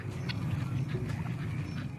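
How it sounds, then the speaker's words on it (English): Farm ducks quack in a few short, nasal calls over a low, steady background rumble, fairly close and without talk. "And I went ahead and got chickens and ducks."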